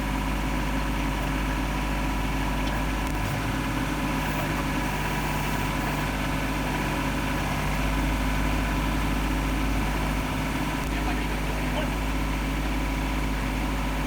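Old Ford gasoline farm tractor engine idling, a loud steady low drone that holds level throughout, with someone talking over it.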